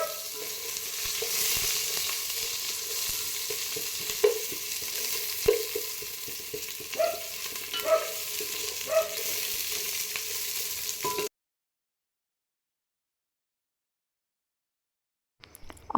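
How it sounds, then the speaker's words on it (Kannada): Onions frying in oil for chicken dum biryani, a loud continuous sizzle with several spoon clinks and scrapes against the pan, then it cuts to near silence before a brief noise at the end. "ಆನಿಯನ್ ಚೆನ್ನಾಗಿ ಫ್ರೈ ಆದಮೇಲೆ ಗೋಲ್ಡನ್ ಬ್ರೌನ್ ಆಗಬೇಕು."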